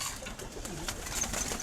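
Racing pigeons in a loft give steady low cooing, moderately close and continuous, with faint chirps over a constant background hiss.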